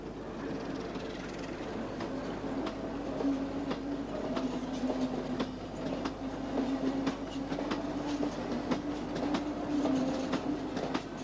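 Class 08 shunter locomotive hauling a short rake of MGR wagons along a dock railway line, with a low engine drone and a steady run of wheel clicks and clanks at moderate distance.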